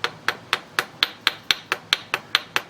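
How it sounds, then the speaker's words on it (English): Small hammer strikes soft solder on a hard surface to flatten it into ribbon, about a dozen sharp, evenly spaced taps in quick steady rhythm, close and clear with no talking. "a little hammer and I'm going to flatten it out."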